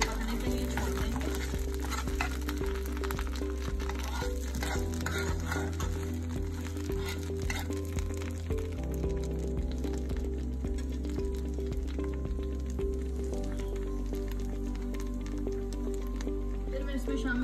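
Aloe vera gel simmering in a pan on the stove, a steady close frying sizzle with faint stirring that runs throughout, joined by a low constant hum.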